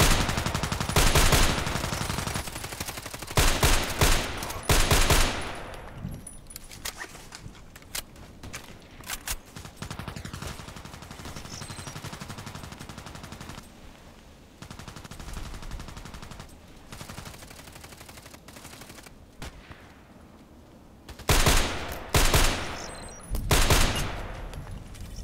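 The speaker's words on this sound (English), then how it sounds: "So it's actually not a real sniper because you have to shoot two times every time you shoot." Sniper rifle shots in the ADXsniper shooting game, loud sharp reports in paired clusters near the start and again near the end, with quieter game ambience between.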